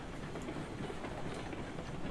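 Train boxcars roll along rails in the Railroads Online video game, a steady, continuous rumble with soft clattering that stays even throughout and has no talk over it.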